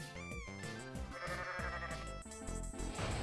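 Goat bleating in the Xbox One game Goat Simulator, a loud, continuous stretch set over busy, dense game sound with no gaps.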